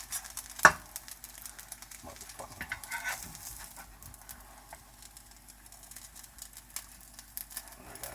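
Omelette being rolled in a frying pan: one sharp clack of the pan near the start, then soft scraping, tapping and a light sizzle that fades to quiet, close and fairly faint.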